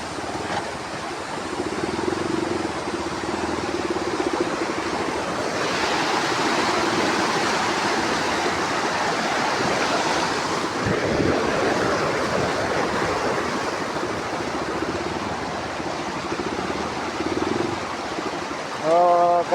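A river being forded by Bullet motorbike, with a steady, loud rush of flowing water running unbroken throughout and a brief voice near the end.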